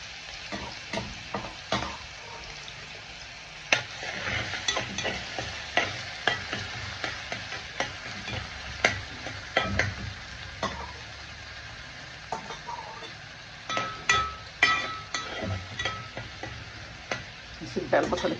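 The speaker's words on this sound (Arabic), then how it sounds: "نسيب بقى البصله كده شويه بقى لما تتحمر معاكم" Sliced onion fries in a pan with a soft, steady sizzle, broken by frequent scraping stirs of a spoon against the pan, close and fairly quiet.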